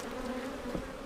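Honeybees drone steadily at an open hive during an inspection, a dense continuous buzz from many insects, close and even throughout.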